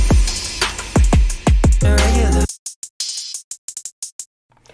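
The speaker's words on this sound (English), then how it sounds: "We added some hi-hats" Hi-hats ticking crisply over a hip-hop beat, first layered over booming 808 kicks, then continuing alone as a sparse, rhythmic pattern of sharp, bright hits.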